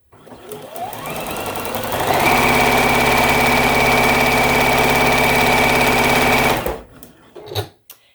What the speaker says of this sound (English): I'm just going to sew it on.